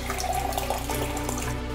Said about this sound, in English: A little bit of water, not too much, just a little bit.